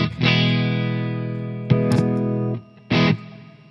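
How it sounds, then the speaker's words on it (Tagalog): Electric guitar played through an M-Vave Tank G amp modeler with an overdrive pedal: crunchy, distorted chords ring out and sustain, then two more struck chords follow, loud and close, with no talking. "ang ganda ng response niya sa OD pedal ko"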